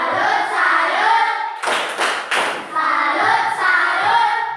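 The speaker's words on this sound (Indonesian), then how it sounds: "Tepuk salut." A school class in a mathematics lesson performs a rhythmic group clapping routine, a few loud, close bursts of clapping mixed with chanting voices.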